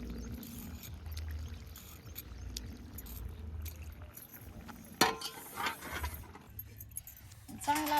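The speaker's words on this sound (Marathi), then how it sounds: "आता पाटा धुवून घेते." Water pours and splashes over a stone grinding slab as it is rinsed after grinding spice paste. Faint background voices and small clinks can be heard under the watery sound.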